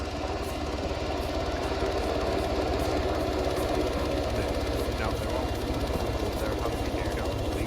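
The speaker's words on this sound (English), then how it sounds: "we will also have a helicopter landing with us shortly" A helicopter comes in to land in a video game, its loud, steady rotor and engine drone holding unbroken for the whole stretch with no pauses.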